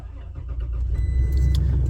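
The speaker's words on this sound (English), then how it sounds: "we should be able to start the vehicle as well" A 2023 Toyota Tacoma engine starting after key programming: a brief cranking that catches into a low, steady idle rumble, close by.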